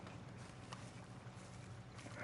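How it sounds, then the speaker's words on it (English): Horse hooves clip-clop in the video game Red Dead Redemption, a steady walking rhythm that stays faint and partly buried under a broad, even wash of ambient noise. "I do have my horse back, though."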